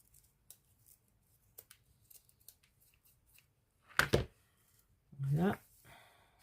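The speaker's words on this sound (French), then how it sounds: "C'est couper les bouts" Scissors trim the ends of paper while a travel journal is made, with faint small snips and then two louder, crisp cuts up close, and a quiet voice faintly in the background.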